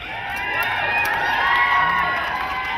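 Large outdoor crowd at a rally at the Capitol in Sacramento cheering and whooping for a pediatrician taking the stage, a dense, steady, loud roar of voices throughout.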